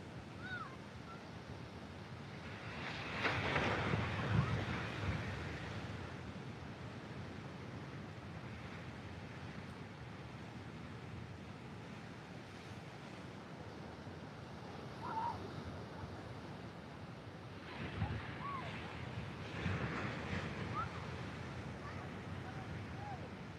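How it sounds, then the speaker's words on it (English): Ocean surf breaking along the coast at Fingal Head, a steady wash of waves with louder surges rolling in now and then, wind rumbling across the microphone and the odd distant bird call over the top. "You can hear those waves breaking in the background."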